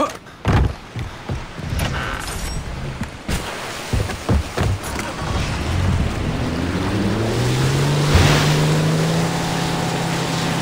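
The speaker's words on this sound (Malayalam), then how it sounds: "ആ ബോട്ടുണ്ടല്ലോ, ബോട്ട്." A motorboat engine drones and builds while water splashes and rushes around the hull in the Far Cry 3 video game, with a few bumps and thuds early on and the engine tone rising steadily toward the end.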